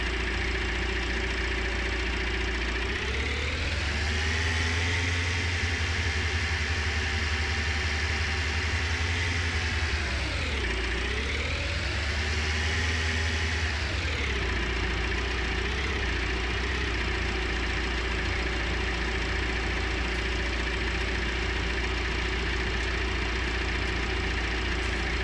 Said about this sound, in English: So we'll just park this up here and then I'll move the tractor forward again